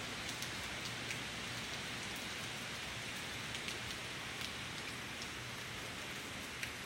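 Heavy rain from Hurricane Michael pouring down hard in the early morning, a dense, constant hiss of drops striking surfaces with occasional louder splats and no voices.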